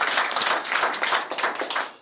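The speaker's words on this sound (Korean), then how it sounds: "그래서 예 박수 쳐주시면 더 고맙습니다." Seminar audience applauding at a content presentation event, a dense steady patter of many hands clapping close and loud for about two seconds before it starts to fade, with no talking over it.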